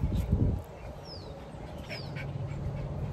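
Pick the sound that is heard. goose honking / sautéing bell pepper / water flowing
goose honking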